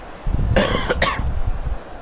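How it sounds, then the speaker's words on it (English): Someone commentating a FIFA 17 career-mode game coughs twice in quick succession, close to the microphone, with a low background hum underneath. "hang on, got a cough again"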